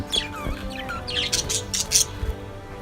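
Budgerigars chirp and tweet in quick, bright bursts, several calls overlapping at close range over a faint steady background hum.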